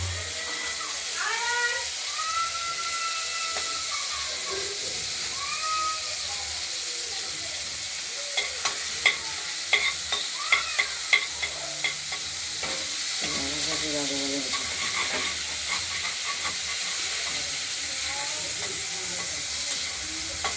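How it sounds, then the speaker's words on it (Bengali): Small shrimp fry and get stirred in a pan of spiced oil with bay leaf, chilli and cumin, giving a steady close sizzle broken by scraping stirs and a few sharp clicks of a utensil against the pan. "এবার চিংড়ি মাছগুলো ভেজে নেব"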